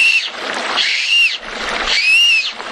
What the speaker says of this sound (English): you can use it as a whistle also